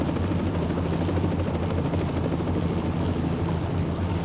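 Police search helicopter over woods, a loud steady rotor roar with a constant low throbbing drone that fills the whole moment without pause.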